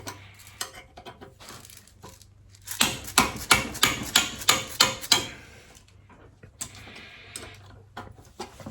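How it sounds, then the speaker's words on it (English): Sharp metallic hammer blows on a Harley-Davidson V-Rod brake caliper, about eight in a steady rhythm, loud and close, with quieter clinks before and after. "I'm going to take a hammer to that"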